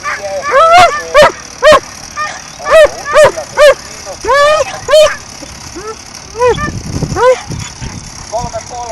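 Dogs at a lure coursing trial on a 480 m course, with repeated sharp barks and yips coming in quick bursts, fairly close and loud, mixed with someone talking.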